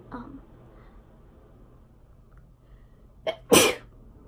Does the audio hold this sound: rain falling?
no